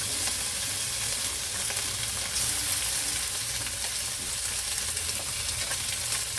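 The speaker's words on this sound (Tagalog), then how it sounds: "ilagay na natin yung ating pork" Pork frying in sautéed aromatics for laing, a steady bright sizzle with faint stirring scrapes, continuous and close, no talking.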